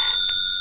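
A telephone ringing in an old-time radio detective drama, a steady electric bell tone with a brief burst midway, close and clear with no voices.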